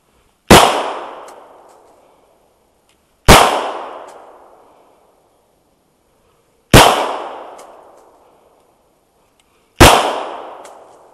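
Four sharp, loud gunshots from a Glock 34 pistol and a Hi Point 995 carbine at a training range, spaced a few seconds apart, each with a decaying echo tail and silence between shots.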